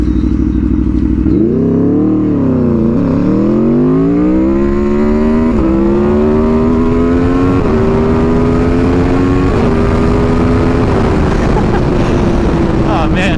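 A loud Aprilia motorcycle engine revs hard while riding, its pitch rising and dipping through repeated gear changes over wind roar, close and continuous throughout.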